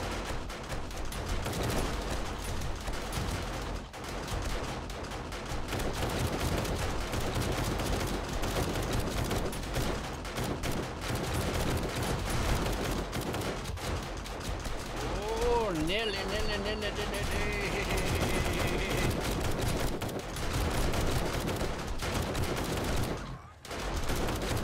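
Automatic turrets in a horde-night video game fire rapid continuous bursts of gunfire for the full stretch, dense and loud, mixed with game effects while a player talks over it.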